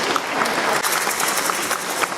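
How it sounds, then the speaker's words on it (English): Audience clapping after a folk dance performance, a dense, steady burst of applause from many hands, close and continuous with no voices over it. "I can see you're all keen because you're clapping your hands"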